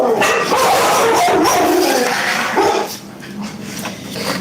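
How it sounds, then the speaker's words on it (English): A dog inside a house barks repeatedly and loudly in quick, excited bursts as someone comes in, and the barks fade toward yips near the end. "My brother coming in the house, so the dog's barking."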